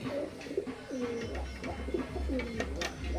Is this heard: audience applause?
no